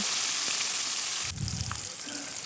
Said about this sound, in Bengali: মাছগুলোকে উল্টে দিচ্ছি দুই পিটি ভালো করে লাল লাল করে ভেজে নেব